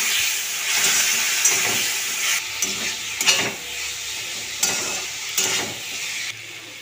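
Potatoes sautéing with cumin and chili powder in a pan for a fish curry, a broad hissing sizzle with intermittent scraping stirs, close and steady.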